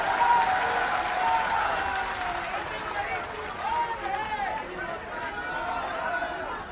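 A large crowd at an outdoor BJP political rally bursts into loud, sustained applause that rolls on continuously, mixed with cheering and a murmur of voices in the gathering.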